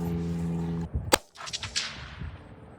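A single sharp rifle shot from a Mossberg MVP or Savage 93, loud and close, cracking out after a low steady hum and trailing off into a long rolling echo across open country.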